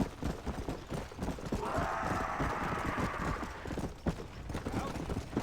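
Horse hooves in Red Dead Redemption: Undead Nightmare, a steady clip-clop of galloping under in-game ambience, with a sustained tonal swell in the middle and no speech over it.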